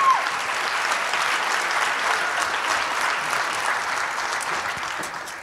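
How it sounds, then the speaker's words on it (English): Applause for the Anchor Bay white jazz combo at a winter jazz marathon concert, a dense sustained round of clapping from a large audience, steady and loud from start to finish, tapering slightly at the end. "One more big round of applause, please, for the Anchor Bay white combo."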